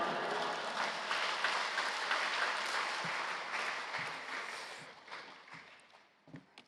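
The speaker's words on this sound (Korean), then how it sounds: "우리 나오실 때 할렐루야로 하나님께 영광 돌리고 박수로 맞이하시겠습니다" Church congregation at Yoido Full Gospel Church applauding to welcome the pastor to the pulpit at a prayer service, steady clapping that fades gradually, leaving a few scattered claps and footsteps in a large hall.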